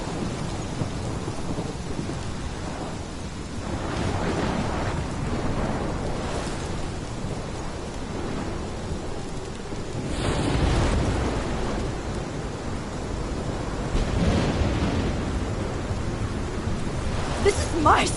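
Thunderstorm in the video game Life is Strange, with steady heavy rain and rolling thunder swelling several times, including a loud crack near the middle, over dense broadband noise.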